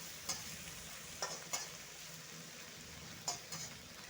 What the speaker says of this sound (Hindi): अभी मैं मसाला का सब्जी को अच्छा से मिक्स करेंगे